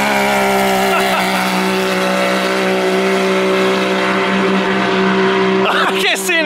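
Can-Am Maverick X3 side-by-side fitted with an Evolution 3RWI tune, lined up for drag races: a loud, sustained, buzzy engine drone close by, with a short burst of rattling noise near the end.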